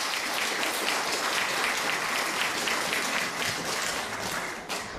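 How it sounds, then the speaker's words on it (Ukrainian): Sustained, dense applause from an audience fills the hall at a children's music school concert in Yezupil, loud and continuous throughout, easing slightly near the end. "Привітайте його оплесками."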